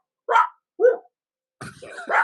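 A human voice imitates a dog, giving two short, sharp bark-like yelps, then a longer rough growling bark-style sound, loud and close in an otherwise quiet room.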